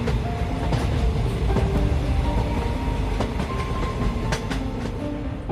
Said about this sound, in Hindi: तभी वहाँ एक ट्रेन आकर रुकती है